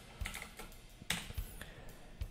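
Typing on a computer keyboard while entering code, a handful of quick irregular key clicks close by, with no voices.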